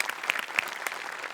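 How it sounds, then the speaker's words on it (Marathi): Studio audience applause on a Marathi comedy show, a steady patter of clapping with a few sharper claps, moderately loud and continuous through the short burst. "मस्त, खूप टाळ्या."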